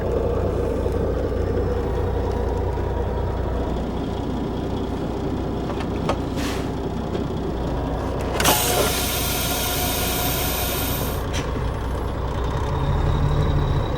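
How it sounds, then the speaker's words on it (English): An RV hauler truck with a ZF Meritor transmission on a test drive, its engine a steady, continuous drone with road noise throughout and a short burst of hiss partway through. "Let me turn the camera around, head down the road, and join me on this test drive of this RV hauler."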